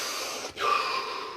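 A single deep inhaled breath during a guided relaxation exercise, close and quiet, beginning after a brief hush and drawn out softly to the end.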